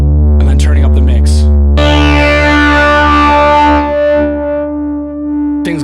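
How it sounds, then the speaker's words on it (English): A Sequential OB-6 analog synthesizer plays sustained, buzzing chords through its analog distortion effect, loud and gritty with rich harmonics, shifting to a denser, brighter texture midway before tapering. "There's an incredible analog distortion by holding down effect"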